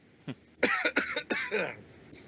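A burst of harsh coughing close to the mic, several rough hacks in quick succession after a brief sharp sound, then trailing off.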